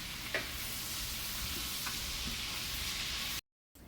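Bacon crisping in a pan gives a steady, close frying hiss with a couple of faint pops. It cuts to brief silence near the end.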